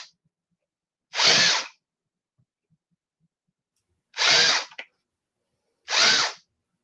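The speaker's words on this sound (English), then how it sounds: "re-drill the buttonholes to enlarge them" A power drill re-drills and enlarges button holes in a Simon Smart cache kit build, with three short, loud bursts of whirring separated by silence.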